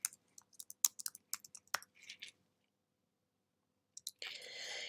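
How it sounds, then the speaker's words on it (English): Close, quiet keystrokes on a computer keyboard come in short bursts of clicks, then stop, with a few more taps and a soft rustle toward the end. "And now I can type award date."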